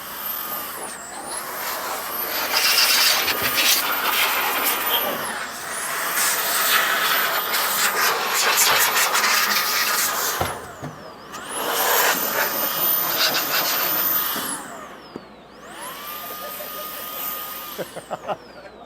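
Milwaukee M18 precision blower blowing dust, a loud, steady, high-pitched rushing whine running in long bursts, with spin-down dips between runs and a voice speaking briefly.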